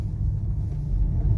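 An automatic car in manual shift mode accelerates with a steady, loud low engine rumble that swells slightly toward the end, heard alone without talk.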